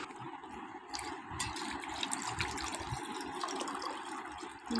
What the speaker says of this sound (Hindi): सबसे पहले इसमें ठंडा पानी